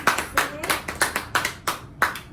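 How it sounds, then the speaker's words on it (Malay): A class claps during an Islamic education microteaching lesson, a handful of people giving about eight brisk, evenly spaced claps over a couple of seconds, close and fairly loud. "berikan tepukan kepada Imam Muslim"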